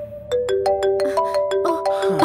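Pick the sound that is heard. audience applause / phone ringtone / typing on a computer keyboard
phone ringtone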